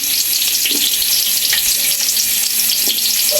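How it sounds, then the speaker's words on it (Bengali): Onions dropped into hot oil for biryani meat, a loud steady sizzle and crackle of frying that runs unbroken, close to the pan, with no voice. "তেলের মধ্যে এখন পেঁয়াজ দিয়ে দেওয়া হলো"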